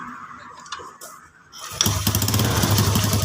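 A Yamaha Jupiter Z motorcycle, stalled from lost battery and regulator charge, turns over after a quiet pause and catches, then settles into a loud, steady, close idle.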